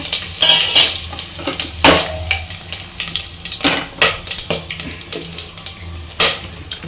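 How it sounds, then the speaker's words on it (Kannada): Mustard seeds and spices sizzling in hot oil in a cooker, with a steady fry crackle broken by repeated close clinks and scrapes of stirring against the metal pot. "ಸೊ ಇವಾಗ ಎಣ್ಣೆ ಬಿಸಿ ಆಗಿದೆ, ಮಸಾಲ ಐಟಮ್ ಎಲ್ಲ ಹಾಕ್ಕೊಳ್ಳೋಣ"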